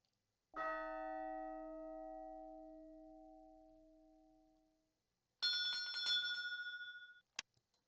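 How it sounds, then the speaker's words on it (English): Bells ring in Patrician 4: one clear chime rings out and fades over about four seconds, then a brighter, higher bell rings in a rapid shimmering trill, ending with a couple of faint ticks. "Simply have to wait for the bell to ring."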